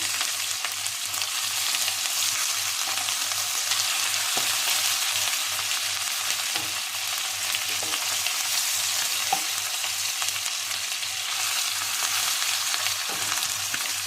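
Chicken pieces fry steadily in a pan, a constant loud sizzle with faint pops and a few stirring clicks, close and uninterrupted.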